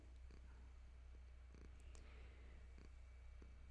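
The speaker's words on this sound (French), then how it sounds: "On entend le choupette qui ronronne?" A pet cat purrs in a quiet room, a faint low rumbling drone that runs steadily throughout, with a few small clicks and rustles above it.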